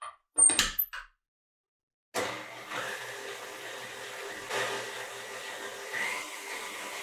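An electric mixer stirs flour for Paska bread: a brief clatter, a moment of silence, then a steady whirring motor drone that continues to the end.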